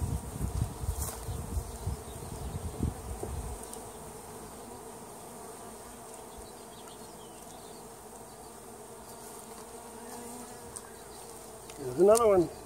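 A steady buzzing hum of many honeybees close by during a hive inspection, with a brief louder fluttering buzz near the end.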